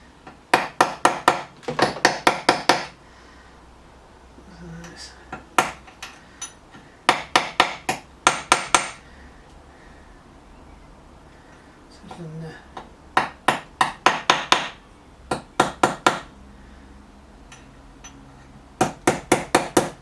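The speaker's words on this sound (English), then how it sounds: "I'm going to get my small little tippy tappy toffee hammer out." Quick bursts of light taps from a small toffee hammer on metal strimmer parts, several rapid strikes per burst, repeating in clusters with short quiet gaps between.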